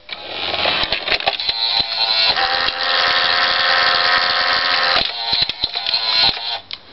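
A 1985 Toshiba Betamax V-M42C with its gear mechanism grinding loudly, a continuous rough mechanical whirr lasting about five seconds, with clicks before it and after it stops.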